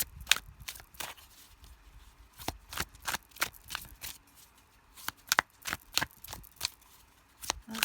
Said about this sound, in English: Let me see if I can shuffle easier with the viewer.